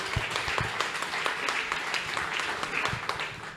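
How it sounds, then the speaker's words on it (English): Audience applause at a leadership mastermind gathering, steady clapping from a crowd with sharper individual claps standing out, moderately distant and continuous throughout. "So, Simi, can you give her a round of applause"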